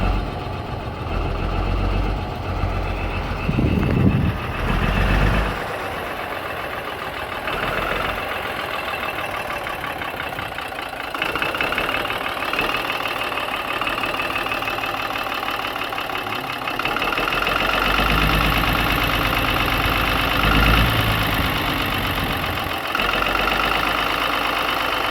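A Ruston Bucyrus 19RB excavator's diesel engine, running again after two injector pumps were fixed, turns over and settles into a steady, heavy idle with a low rumbling knock, continuous and fairly close throughout.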